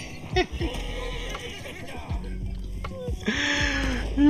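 A horse whinnies a few times amid Red Dead Redemption 2 game sounds and a faint voice.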